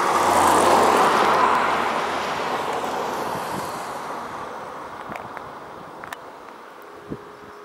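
A car passes close by at the start with a loud broadband engine and road roar that gradually fades as it drives away, followed by quieter ambient noise and a few faint clicks.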